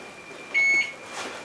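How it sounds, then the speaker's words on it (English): A single short electronic kitchen timer beep while an orange cranberry bundt cake bakes, a clear steady tone lasting about a quarter second amid quiet room sound. "Shut the timer off there."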